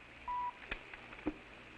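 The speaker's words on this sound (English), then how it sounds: "When you hear the tone, the time will be 10:24 exactly." A telephone time-signal service sounds a single short, steady beep, faint and alone, followed by a couple of soft clicks.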